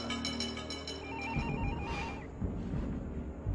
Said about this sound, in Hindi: ओ यार शाजी, देखो यार किसका फोन है?